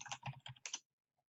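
Computer keyboard being typed on to enter a search, a quick run of clicky keystrokes lasting under a second, close and fairly quiet, then silence.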